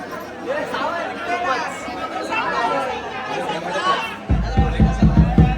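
Steady crowd chatter fills the space at Ekvira temple, many overlapping voices nearby, ending with a few sharp thumping knocks close up.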